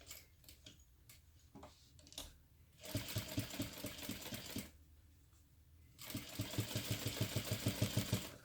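A sewing machine stitches slowly around the corner of a crossbody bag, with short bursts of rapid mechanical ticking separated by pauses and small clicks as the fabric is turned.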